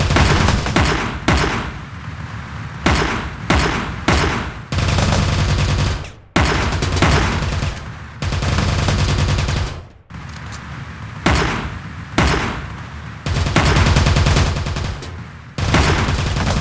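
Heavy rifle rounds fired at an undamaged Warwalker in Teleglitch, loud sharp shots in irregular clusters mixed with longer sustained bursts of impact noise, with no talk over them.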